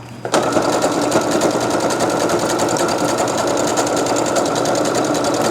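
An Innovis A16 sewing machine on speed setting 2, stitching a card wallet, starts abruptly and runs steadily and loudly, with a continuous whirring motor hum and fast rhythmic stitching texture throughout.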